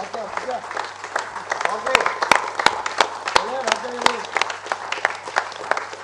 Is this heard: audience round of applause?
yes